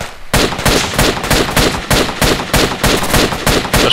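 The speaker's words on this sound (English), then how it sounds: "There's an AR shooting." Rapid bursts of assault rifle fire in Project Reality, Falklands setting, loud and close, repeating in quick evenly spaced volleys with no pauses in between.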